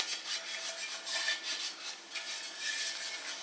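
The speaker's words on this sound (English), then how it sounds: "I'm going to just take and rub the inside a little bit with some flour." Flour is rubbed by hand around the inside of a cast iron bread loaf pan, giving a steady, close, dry scraping rasp with a gently pulsing rhythm and no voices.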